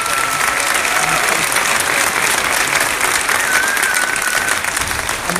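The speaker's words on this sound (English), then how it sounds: "Let's give them a round of applause." A large audience at a Kaplan graduation ceremony breaks into sustained, dense applause for standing employees, loud and continuous throughout with a faint crowd murmur underneath.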